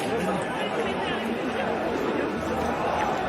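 Dense crowd noise from a May Day 2019 Gilets Jaunes protest march near Place d'Italie in Paris, steady overlapping chatter and shuffling of many people moving, continuous and fairly loud throughout.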